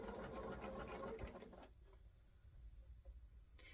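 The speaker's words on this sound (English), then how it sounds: "I'm going to sew them together" A sewing machine runs steadily, stitching cotton quilt pieces together with a fast even whir. It stops after about a second and a half, leaving faint handling noises in a quiet room.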